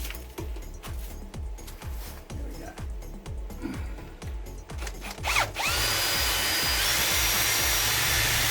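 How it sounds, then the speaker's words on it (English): A power drill drills out a rivet on a caravan under restoration, first in a stuttering run of short rhythmic bursts, then settling into a loud, steady whine for the last few seconds. "I'll go get the drill and undrill that off."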